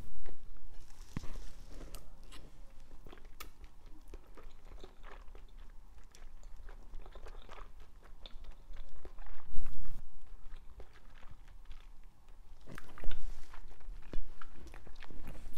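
Close, wet chewing and slurping of water snail noodle soup, with irregular crunches, smacks and small clicks repeating throughout under a steady low background hum, with no talking.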